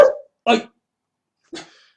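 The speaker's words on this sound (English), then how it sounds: "the dog has just kind of flipped out again" A pet dog gives three sharp, close barks indoors, spaced out with short silent gaps between them.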